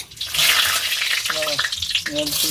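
Ingredients frying in a wok with onions, a loud continuous sizzle and scraping stirs, with voices talking over the cooking.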